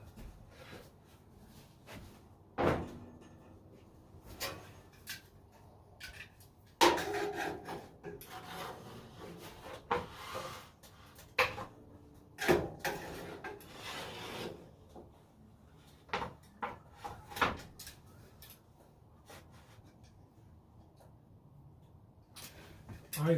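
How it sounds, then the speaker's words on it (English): Metal grates on a Masterbuilt smoker being shut with a series of scraping rubs and sharp clunks, close by and irregular, with no talking. "Let me close my grates."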